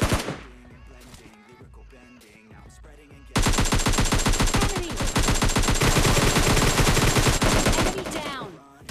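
Groza rifle fire in a Solo vs Squad mobile shooter game, with scattered single shots at first, then a loud, sustained rapid-fire burst of automatic gunfire lasting several seconds.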